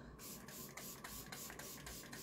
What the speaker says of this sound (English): Then the last step is using the 4-in-1 spray again.